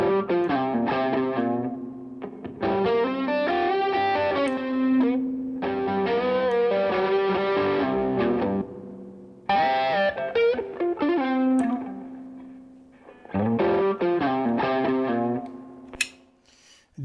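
A guitar phrase plays through the Fuse Audio Labs VREV666 spring reverb plugin while the tone knob is turned. Sustained chords recur in bursts with short gaps between them, and a springy reverb tail rings after each one, with no talk over it.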